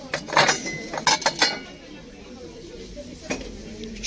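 Old Czechoslovak porcelain plates, 24 cm, clink and clatter against each other at a Kyiv flea market in a few quick bursts, then the handling quiets to faint rustling with one more soft clink.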